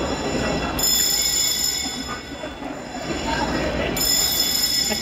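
Fire alarm sounding in a shopping mall, a persistent high-pitched electronic tone that cuts out briefly and resumes, heard over a busy crowd and people talking nearby.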